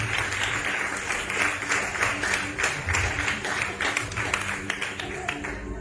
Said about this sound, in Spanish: Con ese aplauso al Señor que usted le va a dar con gozo